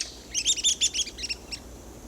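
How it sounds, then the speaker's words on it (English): A red-cockaded woodpecker, a small woodpecker about seven inches long, calls in a pine forest with a rapid series of squeaky, nasal chirps that trail off over a couple of seconds. "a pine forest in search of the red-cockaded woodpecker"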